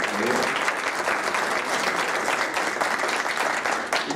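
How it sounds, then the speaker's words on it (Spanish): Applause from an audience at a book presentation, thick continuous clapping filling the hall at a steady, fairly loud level for the whole stretch, with no talk over it. "le damos un fuerte aplauso, por favor"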